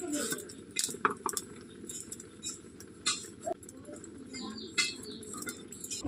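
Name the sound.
cutting bottle gourd while lentils boil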